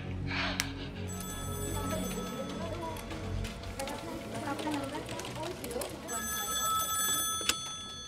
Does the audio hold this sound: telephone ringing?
yes